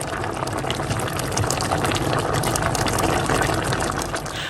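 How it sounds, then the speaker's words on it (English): Water poured into a pot of Ghanaian green vegetable soup makes a loud, steady, close rush of splashing and bubbling that lasts the whole moment, with no voices. "I'll add just a splash of water, cover it, to allow it to boil"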